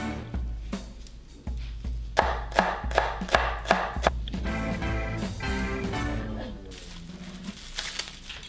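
A knife chops green onion and rolled perilla leaves on a board, a quick run of crisp, evenly spaced chops giving way to dense rapid slicing and a papery rustle of leaves, close and clear.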